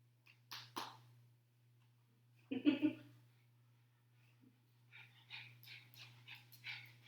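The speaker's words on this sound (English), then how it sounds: "I've got a dog who's being very needy here." An indoor dog whimpers and yips during a yoga session, with a couple of short yelps early, a louder cluster of whines midway and softer, high whimpering near the end, all fairly faint.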